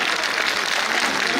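Applause from a large crowd at an outdoor poetry recital in Lucknow, a dense continuous roar of clapping, loud and steady throughout.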